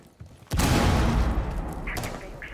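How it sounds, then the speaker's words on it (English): A frag grenade thrown and detonating in a squad-based shooter video game: a small thump, then a sudden loud, close blast whose rumble sustains for about two seconds, with faint gunfire ticks near the end. "Throwing frag grenade."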